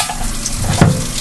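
Water runs steadily from a tap into a sink, close and fairly loud, with a brief splashing surge near the end.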